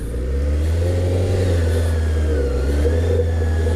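A 2005 Suzuki GSX-R750 engine revs steadily while being ridden on fresh pavement, its loud, continuous drone rising slightly in pitch with a whirring edge throughout.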